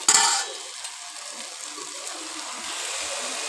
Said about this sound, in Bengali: একেবারে লতা ভাজা হয়ে গেছে